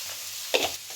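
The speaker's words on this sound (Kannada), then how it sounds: "ಈರುಳ್ಳಿನ ಫ್ರೈ ಮಾಡ್ಕೊಂಬಿಡೋಣ." Onions fry in a little oil with a soft, steady sizzle, broken briefly by a brighter stir and crackle midway through a short moment.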